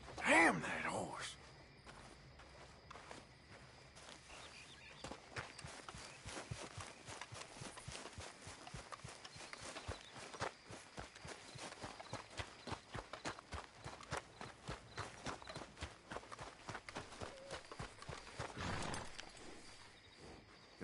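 Horse hooves clip-clop steadily in the Red Dead Redemption video game, a continuous rhythmic patter of steps at moderate distance, mixed with game ambience and occasional voices.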